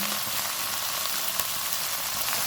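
Chili sauce, soy sauce, vinegar, salt and red chili powder fry for potato Manchurian, giving a dense, steady, close sizzle with no pauses throughout.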